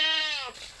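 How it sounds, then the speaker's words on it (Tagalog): A mother goat on a provincial Philippine farm gives one long, loud, wavering bleat that fades out near the end. "Ayan, ito yung mother kambing"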